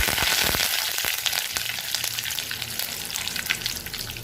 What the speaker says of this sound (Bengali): সাদা তেল আর ঘি, সামান্য একটু কালো সর্ষে দিয়ে দিব। তারপর এতে কারি পাতাটা দিয়ে দিলাম।